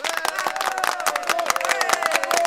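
A studio audience claps rhythmically to welcome the winners, the applause thick with crowd noise and a voice or chanting running over it.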